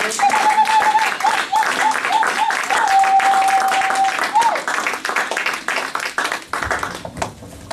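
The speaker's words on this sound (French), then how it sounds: "On peut acclamer encore très fort pour la gloire de Dieu" Church congregation applauding loudly for the glory of God, dense sustained clapping from a large crowd under a singing or speaking voice, thinning out toward the end.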